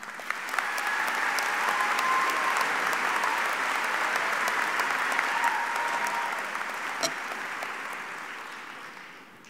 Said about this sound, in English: let's give Lillian, Connor, Katie, Emily, and Savannah one more round of applause